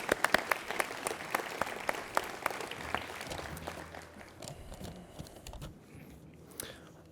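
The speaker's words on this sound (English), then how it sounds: "So just a round of applause for the entire class." An audience at a middle school closing ceremony applauds the whole class, crisp scattered claps over a room-filling patter that thins out and dies down toward the end.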